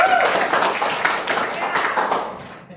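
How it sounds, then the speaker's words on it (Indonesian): Vocational high school students clap together in a lively, fairly dense burst. It stays close and loud, then gradually fades out over a few seconds. "Oke, tepuk tangan lagi dong"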